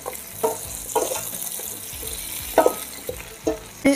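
A spoon stirs chorizo, potatoes and snow peas sizzling in a cocotte, with soft frying hiss under a series of irregular scraping and clinking stirs.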